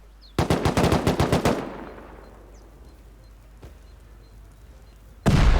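A rapid burst of automatic gunfire during a raid in the video game Rust, with a booming echo that fades out, then a lone shot, and another loud burst cutting in at the end.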